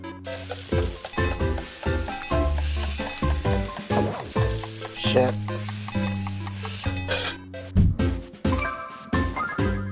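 Food cooking in the video game Phoenotopia: Awakening gives loud, busy sizzling and stirring, with bright tinkling chimes over a steady musical backing.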